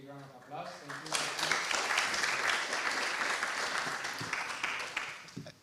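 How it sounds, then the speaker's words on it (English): An audience at an awards ceremony breaks into sustained applause after a brief spoken introduction, dense clapping that holds steady then begins to taper. "Big round of applause"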